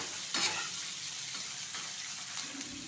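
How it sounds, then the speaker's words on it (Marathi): Onion frying on full flame in a pan until soft, a dense continuous sizzle with scraping stirring strokes, close and fairly loud, no voices. "फुल गॅस करून आपला कांदा मऊ करून देते"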